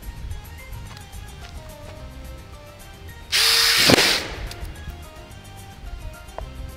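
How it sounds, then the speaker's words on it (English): A power drill fitted with a drill bit whirs loudly in one short burst of under a second over a background of steady noise. "so I'm just going to use a drill bit"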